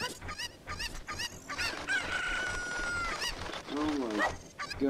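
A chicken in The Legend of Zelda: Ocarina of Time Randomized, with repeated clucks and a drawn-out squawk and crow rising and falling up close, and a person talking briefly over the bird calls.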